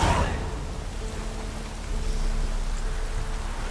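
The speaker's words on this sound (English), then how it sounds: "Looks like rain." Rain falls in the fantasy world of The Witcher 3: Wild Hunt, a steady soft hiss of drops with a faint low tonal hum beneath, continuous and fairly loud, no voices heard.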